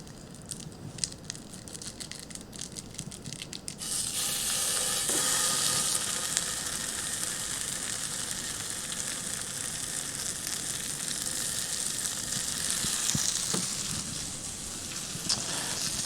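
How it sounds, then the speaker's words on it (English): Pork chorizo sizzles steadily in bacon fat on a cooktop, a dense, continuous frying hiss that starts after a few seconds of quieter crackle and stays close and loud throughout, with no talking. "we'll get to cooking some chorizo"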